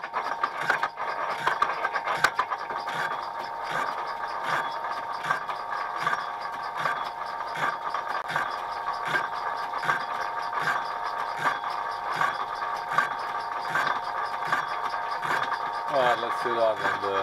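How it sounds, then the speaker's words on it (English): A hard bearing carrier is machined while a part rattles at the back of the setup, giving a steady mechanical whine with fast, repetitive metallic ticking throughout. "it's hard, so you can hear it, you see it back there rattling like that"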